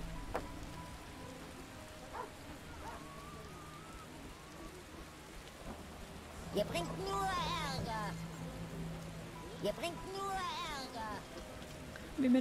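Steady rain falling in The Witcher 1 (Rise of the White Wolf), a soft continuous patter under a calm, quiet game scene, with someone talking over it in places.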